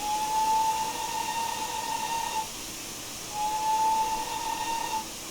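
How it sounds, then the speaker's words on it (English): The standard steam whistle of a GWR Manor 4-6-0 locomotive in Train Simulator Classic sounds two clear, shrill blasts separated by a short pause, over a constant steam hiss. "Standard whistle."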